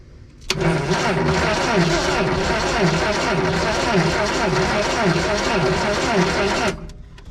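A vintage Datsun 521 pickup's engine cranks steadily with a rhythmic, loud chugging for about six seconds, trying to start after a splash of two-stroke gas, then stops.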